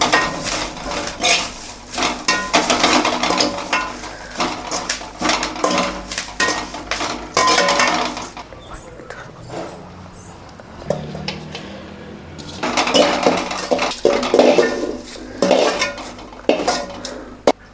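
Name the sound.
curry leaves being roasted and stirred in a pan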